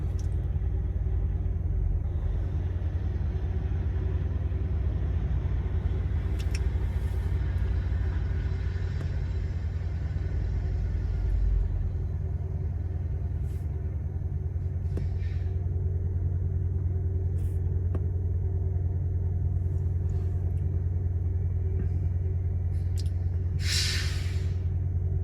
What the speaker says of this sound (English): Ah, here comes the fuel truck.